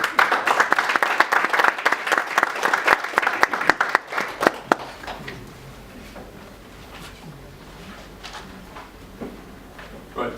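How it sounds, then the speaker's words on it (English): Audience at a business pitch event claps to welcome presenters forward, a burst of brisk, dense applause for about four seconds that then thins to scattered claps and quiet room noise. "can we invite you forward with a round of applause for them"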